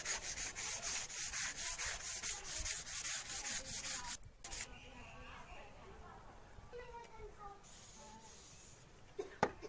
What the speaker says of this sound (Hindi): इसके ऊपर रेगमाल लगाना है 150 नंबर का वाटर प्रूफ रेगमाल, और इसको अच्छी तरह से दबा के लगा देना है